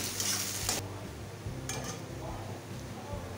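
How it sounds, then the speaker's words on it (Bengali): Onions frying in a pan for a Bengali shol (snakehead) fish recipe, a steady close sizzle with scraping stir strokes and a brief louder burst near the start. "পেঁয়াজগুলো একটু ভালো করে ভেজে নেব।"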